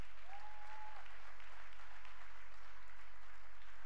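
A church congregation at a Sunday morning service applauds with a steady, sustained clatter of clapping that fills the room evenly, alongside a faint crowd murmur and a low constant hum.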